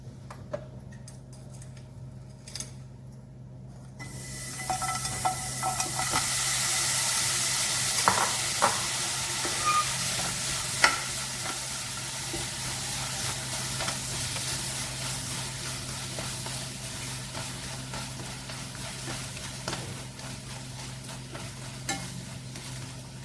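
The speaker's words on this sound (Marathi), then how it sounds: "आता आपण गुळाचा पाक करून घेऊ" Jaggery syrup cooks and bubbles in a pan for sesame laddoos, with steady sizzling and frequent scraping stirs and clicks of a spoon, louder after the first few seconds and continuing without speech.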